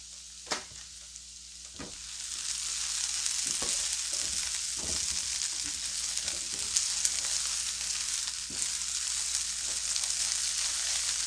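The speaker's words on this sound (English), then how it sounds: "So I'm going to give them a stir." Sausage and potatoes, with onions, sizzle steadily in a pan, a continuous bright frying hiss with occasional scraping clicks as they are stirred, close and alone.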